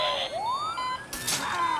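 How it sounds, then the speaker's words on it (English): An ambulance siren in the city-building game SimCity gives a rising wail that sweeps upward and then holds, fairly loud with a few game effects around it and no talking. "There goes the ambulance."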